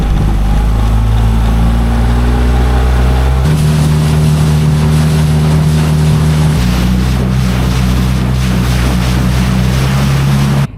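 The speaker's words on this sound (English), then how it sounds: "Dinghy started on the 5th pull." A dinghy outboard motor runs loudly and steadily near the water off Cesme, its droning hum shifting pitch a couple of times as the throttle changes, with wind and water noise behind it and no talk.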